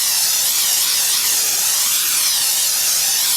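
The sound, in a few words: greasing a baking pan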